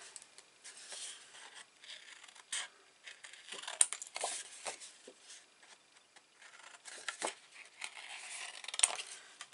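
Scissors snipping paper for a vintage steampunk half album, irregular close crisp cuts and rustles with quiet gaps, no talking.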